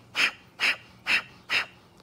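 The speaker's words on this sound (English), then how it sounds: "So it's through the nose. Once again, it's a forceful exhalation" Four forceful, evenly spaced exhalations through the nose in Breath of Fire breathing, each a sharp close puff with a short, soft pause for the passive inhale.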